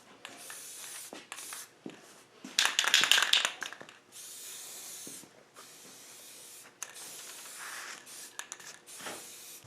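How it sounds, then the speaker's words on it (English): Spray gun applying clear coat to the wheels of a 1938 GMC truck, in repeated hissing bursts, one louder spell mid-clip, with short pauses between passes. "So I've got some more painting to do. I've got to finish up my wheels."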